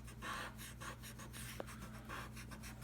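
A rubber eraser rubbing out pencil guide lines around bubble letters on paper, making a soft, steady scratchy rasp with short back-and-forth strokes, close and quiet, with no talk.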